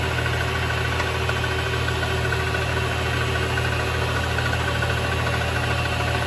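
A Vevor MX 400 mini lathe spinning at up to 1200 RPM, giving a steady, even mechanical hum and drone with constant vibration that holds at one level throughout, close by, with no voices.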